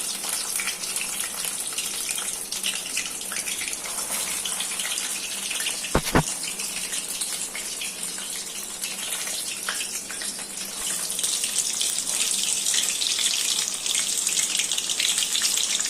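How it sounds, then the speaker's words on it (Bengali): Pointed gourds (potol) stuffed for dorma fry in a pan over a medium-to-low gas flame, giving a steady, even hiss and sizzle throughout, briefly interrupted by a sharp click, with the frying noise growing a little louder toward the end. "মিডিয়াম টু লো ফ্লেমে আমি এটা ফ্রাই করছি।"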